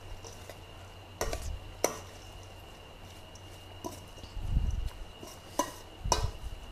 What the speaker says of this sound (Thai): คลุกเคล้าก่อนเอาแค่นี้ก่อนแล้วก็คลุกเคล้า